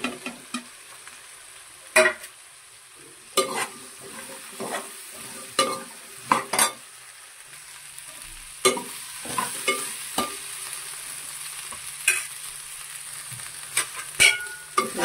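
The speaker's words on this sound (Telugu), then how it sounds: "ఇది మంచిగా కలుపుకోవాలి." Okra curry with turmeric being stirred in a pan, a steady soft sizzle under repeated scraping clacks of the spoon against the metal, close and fairly quiet, with no talking.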